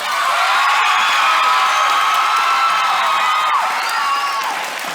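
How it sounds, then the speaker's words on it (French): A crowd at a neighbourhood dance contest in Kourou cheers for a dance group, with loud sustained shouting and high-pitched whoops and screams, many of them children's voices, over clapping that carries steadily before easing off at the end. "à vous d'applaudir"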